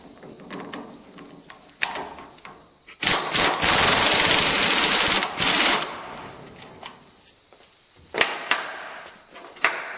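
An old pneumatic air tool works on a Jeep Dana 30/44 axle hub during bearing removal, letting out a loud rattling hammer burst of about three seconds. Shorter, quieter clatters and workshop handling noises come before and after it.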